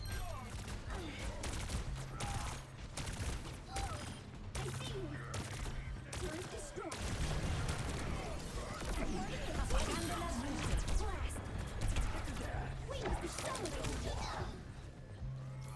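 Overwatch gameplay with dense, continuous turret gunfire and rapid clattering shots throughout, layered with other game effects and a steady hum.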